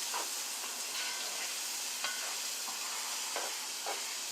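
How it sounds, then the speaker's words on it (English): Butter melts and browns in a hot pan with chopped celery for a chicken pot pie, giving a faint, steady sizzle broken by soft clicks and stirring taps. "So, this butter melting here."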